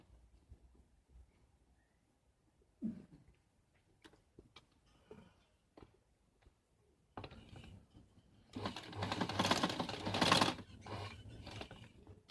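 A sewing machine stitching the collar of a ladies suit. Scattered handling clicks and cloth rustle come first, then the machine runs in a loud, dense mechanical whir for the last few seconds.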